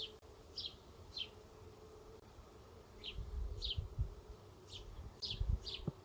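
Honeybees buzzing faintly around an open hive box, a soft steady drone with a few louder passing buzzes, plus light handling noise and brief bird-like chirps.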